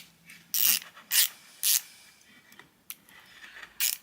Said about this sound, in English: ratcheting screwdriver with a nice sounding ratchet